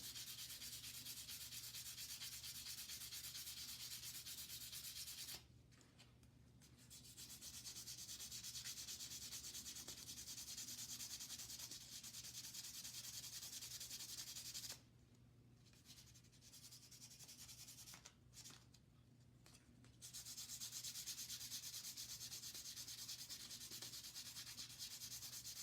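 Hand sanding of a small stone plains-style peace pipe blank, a close, steady abrasive rasp that runs in long strokes with a few short pauses between passes.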